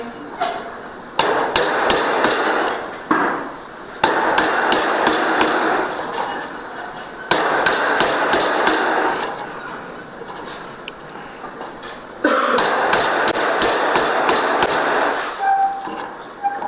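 A mallet strikes a chisel again and again, cutting a mortise in a wooden piece for a mortise and tenon joint. The blows are close, loud and sharp, landing in quick bursts separated by brief pauses.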